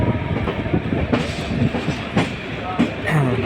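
A train rumbles steadily at New Delhi railway station with rhythmic clacking of wheels on track, a continuous busy rail sound with faint background voices.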